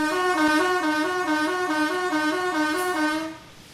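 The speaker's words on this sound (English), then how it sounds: "has a two-tone warble sound and is also tested on Wednesdays at 4:30 p.m." Block alarm siren at a distillation plant sounding a two-tone warble, with two pitches alternating quickly and evenly in a steady loop. It is loud and sustained, then fades at the end.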